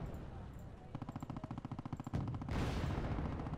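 A rocket artillery barrage strikes a wide spread of units in Wargame: AirLand Battle: a rapid volley of regular impacts about a second and a half long, then a loud, sustained roaring blast that carries on to the end.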